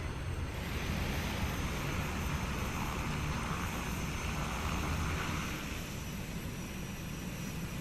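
A steady, droning turboprop engine on a Milviz PC-6 Porter in MSFS 2020 runs near idle, a continuous broadband rumble and whine holding even throughout, with no voices.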